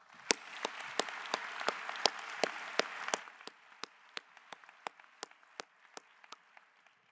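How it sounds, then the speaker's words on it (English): Audience at a Butler University pharmacy hooding ceremony applauds educators, a soft wash of clapping that thins after a few seconds into sparse, distinct individual claps. "Please join me in giving them a round of applause."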